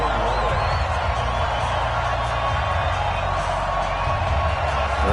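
NFL video game stadium crowd at a Buffalo Bills versus New Orleans Saints match in New Orleans, a steady loud roar of cheering with occasional whoops, filling the background throughout.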